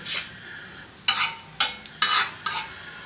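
Fish pieces frying in a hot pan with curry leaves, Rajahmundry style, give off a series of four or five close, bright sizzling bursts as they are stirred and turned, with quieter crackle between them.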